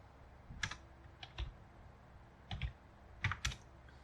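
A computer keyboard being typed on during a Linux root-user software installation, with several short clusters of crisp key clicks separated by quiet pauses, close and fairly soft, with no voices.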